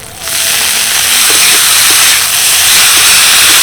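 Grated potato and chopped green chilies drop into a hot pan with asafoetida and burst into a loud, close sizzle that rises sharply and then holds as a steady roaring hiss.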